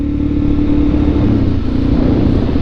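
Steady, loud engine drone of a Suzuki DR-Z motorcycle riding through bushland in a nature reserve, a close, continuous throb with a constant low rumble and no talking.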